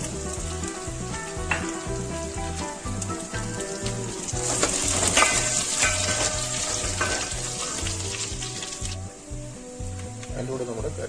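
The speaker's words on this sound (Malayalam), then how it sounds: "ചെറുള്ളി നല്ലൊന്ന് മൂത്ത് വരുമ്പോൾ നമുക്ക് വറ്റൽമുളക് കുറച്ച് കൊടുക്കാം." Shallots and dried red chillies frying in oil in a pan for Kerala chicken perattu, a loud continuous sizzle that swells midway with crackles, while a person talks over it.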